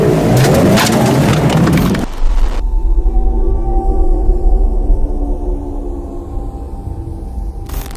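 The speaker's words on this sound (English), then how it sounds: "the rhino turns around quickly and rushes the car, slamming into it hard" A rhino charging and slamming hard into a car: a loud crashing impact and scuffle up front, then a heavy, sustained rumble of engine and jostling that carries on loudly with no voices.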